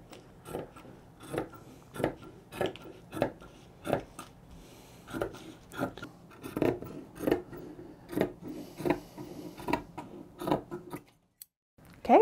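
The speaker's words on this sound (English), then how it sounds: "I find that I move the fabric around a lot as I cut it" Scissors cut through fabric for garment pattern pieces, giving a series of crisp snipping crunches at a steady, roughly once-per-second rhythm, close and clear with quiet pauses in between.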